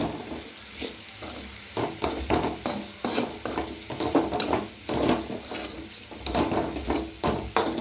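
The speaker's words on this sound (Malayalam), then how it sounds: "ഇത് നന്നായി മൂപ്പിച്ചെടുക്കുക" Spices such as chilli powder, garam masala and a pinch of fenugreek sizzle with sautéing onions for a river-fish curry, a steady fry hiss broken by repeated scraping stir strokes of a spoon in the pan.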